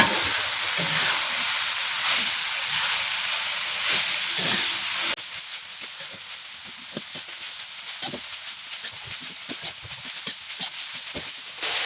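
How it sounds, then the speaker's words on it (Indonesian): Fern greens being stirred into a curry pot while cooking, a steady hiss and soft sizzle with scattered scraping and clinking from the spoon, moderately quiet and without voices. "selanjutnya ini kita masukkan sayur pakis atau sayur paku. Kita aduk rata."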